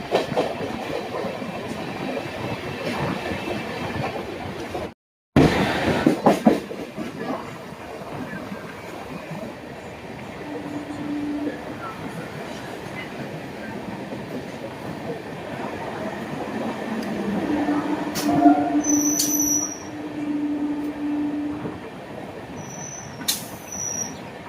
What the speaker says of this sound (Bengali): দীর্ঘ দীর্ঘ প্রতীক্ষার পর ফাইনালি আমাদের ট্রেন হাওড়া স্টেশনে ঢুকছে।